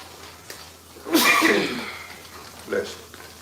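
A single sharp sneeze bursts out close by, followed a moment later by a smaller breathy sound; no talking is heard.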